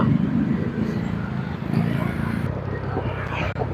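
Road traffic heard from a Honda Click 125/150 scooter fitted with a pitsbike pulley set: a dense, steady low rumble of engines and tyre noise close by, with no clear speech.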